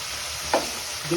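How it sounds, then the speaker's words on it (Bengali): A pangas fish and eggplant curry bubbles in a pot with a steady, dense hiss and seethe, marked by one or two small pops and stirring clinks. "এই যে রান্না করছি আমার মাছটা ফোটে ভীষণ"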